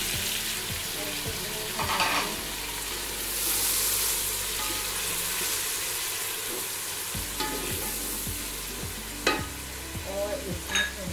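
Tomatoes sizzle steadily in a hot pan with cooked garlic and ginger while a utensil scrapes and stirs them in short intermittent strokes.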